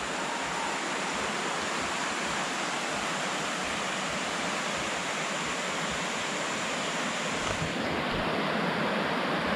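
A river where two headwater streams join into one, near a forest, rushes in a dense, constant roar of flowing water, loud and close throughout with no voices.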